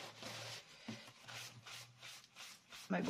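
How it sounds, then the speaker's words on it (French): An eraser rubs back and forth on paper while a moodboard is being made, giving soft, steady rhythmic strokes with brief pauses, close and fairly quiet. "je prends ma gomme pour gommer"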